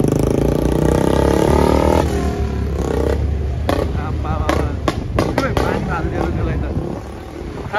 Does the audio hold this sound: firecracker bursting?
yes